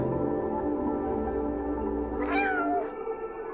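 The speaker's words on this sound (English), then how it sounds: "That was a pretty cat until it meowed." A cat gives a single drawn-out meow with a rising then falling pitch near the end, over a steady background hum, with no talking.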